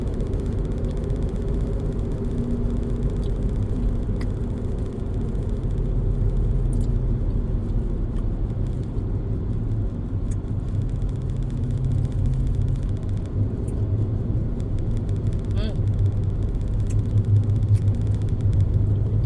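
Steady low road rumble and engine hum from inside a car driving on the road after work, continuous and even throughout with no talking.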